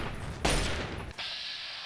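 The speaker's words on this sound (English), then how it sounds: "I'll just take a shot at him" Gunfire in the video game Fallout 3: a sudden loud burst of shots, then sustained hissing, crackling noise with low rumble beneath, heard alone without talk.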